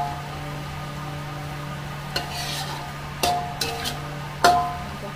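Minang-style fried chicken cooks in a pan with a steady low frying hiss, broken by a few sharp clinks and scrapes of a utensil stirring against the pan.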